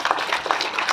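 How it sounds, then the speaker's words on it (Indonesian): Applause from the congregation at the consecration of the GKE Sungei Pasah church building: a steady, dense patter of many hands clapping together, moderately loud and continuous, with no one talking over it. "Tepuk tangan."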